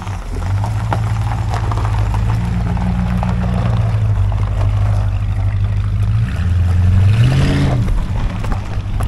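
A 1967 Plymouth Valiant engine with an AVS carburetor revs steadily and loudly, holding a droning pitch that dips and then climbs sharply near the end as the throttle opens.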